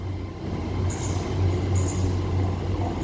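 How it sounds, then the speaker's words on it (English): Avanti West Coast train 805006 pulls out of Llandudno Junction bound for Holyhead, a loud, steady low rumble and hum rolling past close by, with brief high hissing bursts above it. "Now departing is going to be the delayed 1100 Avanti West Coast service to Holyhead"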